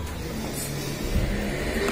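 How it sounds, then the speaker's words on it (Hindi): A motorbike engine revs loudly and steadily close by for about two seconds, with a slight surge partway through, heard at a home during a meal. "ये क्या गाड़ी का साउंड"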